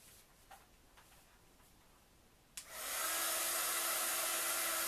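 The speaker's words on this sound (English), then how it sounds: "Then I need my heat gun." A heat gun switches on partway through with a sharp click, then blows hot air in a loud, steady roar that continues to the end after a few quiet taps.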